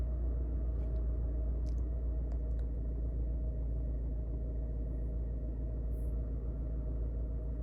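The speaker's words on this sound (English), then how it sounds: "I'm just starting the car here" A 2006 BMW E90 engine idles with a steady, low, even rumble that holds without change from start to finish, with no voices over it.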